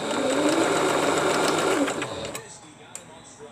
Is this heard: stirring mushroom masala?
no